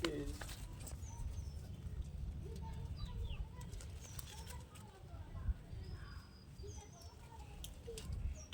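Madras pigeon pairs at a pigeon sale make soft coos and brief wing flutters amid chirping birds, heard faintly under someone talking.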